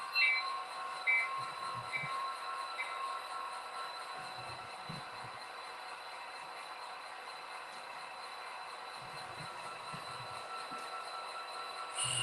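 An Athearn HO scale model train runs on code 70 track, giving a faint, steady rolling hum with light clicks from the rails throughout, and no talking.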